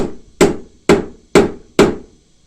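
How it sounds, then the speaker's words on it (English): Hand hammering on metal, drawing it out without a press while making a pen holder paperweight from junk: four loud, sharp ringing blows spaced about half a second apart, each ringing briefly before fading, with no talk. "you just hammer it."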